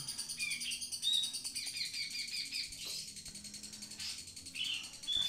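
A white-rumped shama (magpie robin) chirps and whistles in short, bright bursts, repeating several times over a steady low background hum, with no voices.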